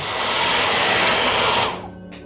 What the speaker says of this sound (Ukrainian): Можна дати підсохнути своїм природнім шляхом або підсушити звичайним феном для волосся.